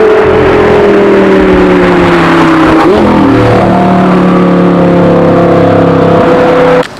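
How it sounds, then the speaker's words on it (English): An Audi R8 engine pulls hard and loud from inside the car, a sustained deep roar with rising and falling engine tones through gear changes, continuous for about seven seconds. "driving the Audi R8"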